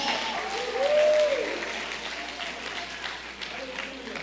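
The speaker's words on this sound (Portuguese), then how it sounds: "Aplauda a Jesus." A church congregation applauds Jesus during a sermon, a steady broad wash of many hands clapping, with a voice briefly rising over it amid the crowd noise.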